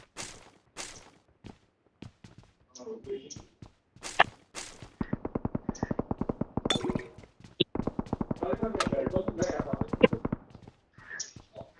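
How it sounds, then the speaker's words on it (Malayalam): Gunfire in the video game PUBG: scattered single shots, then two long rapid automatic bursts of sharp cracks, with a voice heard briefly in between. "ഈ ഡയറക്ഷനിൽ വെടി കേട്ടു."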